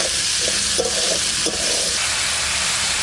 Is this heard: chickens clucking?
no